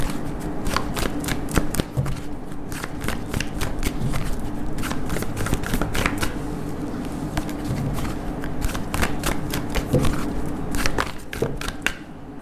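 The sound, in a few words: tarot cards being shuffled for a reading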